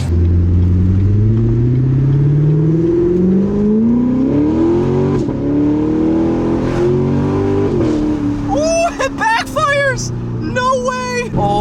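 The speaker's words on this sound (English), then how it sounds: "this is the perfect exhaust tone for her" Chevrolet Corvette C7 with straight-piped exhaust revving in long, loud sweeping pulls that rise and fall, settling to a rumble as excited voices talk over the end.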